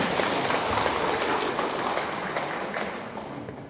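Audience applause at a Catholic community Easter and renewal gathering in Pontianak, a dense steady patter of clapping from a crowd that fades slightly toward the end, with no speech over it.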